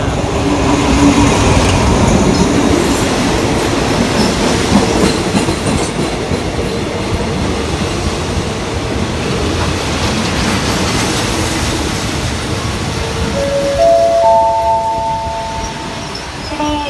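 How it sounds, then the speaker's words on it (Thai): An Alstom 4405 locomotive hauling ordinary passenger train 254 on the Lang Suan to Thonburi line, a loud continuous rumble with clickety-clack of wheels over rail joints and faint wheel squeal near the end. "ขบวนรถที่จะเทียบชานชลาที่หนึ่งขณะนี้เป็นขบวนรถโดยสารธรรมดา"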